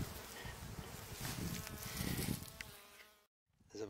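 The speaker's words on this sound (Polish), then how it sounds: "Pszczoły latają." Dense buzzing of honeybees flying close by a hive during a first inspection after winter in February, a steady insect drone for several seconds before a brief cutoff, then the buzzing resumes.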